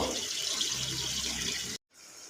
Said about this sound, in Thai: เติมน้ำล้างครก